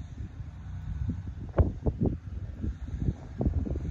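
Strong wind of about 20 miles an hour blows from the south over an outdoor fishing spot, buffeting the microphone with low rumbling gusts and irregular thumps, loud and close, with no talking.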